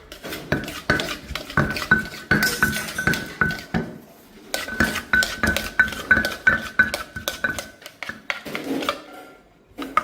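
Green papaya salad tossed in a bowl, busy rattling and clinking of utensils against the dish in quick irregular strokes, close up and without speech.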